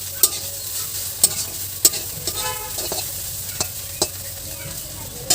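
Mustard greens fry steadily in a pan, a soft continuous sizzle broken by several sharp scraping stirs spaced about a second apart, close and moderately loud with no voices.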